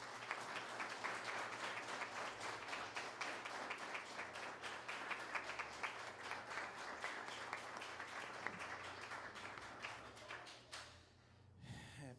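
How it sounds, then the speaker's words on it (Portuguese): A church congregation at a morning sermon gives a long round of applause, steady rhythmic clapping that holds for about ten seconds before dying away. "Vamos dar uma salva de palmas, Pais Celestiais?"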